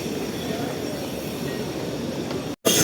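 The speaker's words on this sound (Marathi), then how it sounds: "फाइनली मेट्रो ट्रेन आ चुकी है" A loud, steady rumble of a Mumbai metro train rolling into the platform, filling the space with continuous mechanical roar before a brief cutoff.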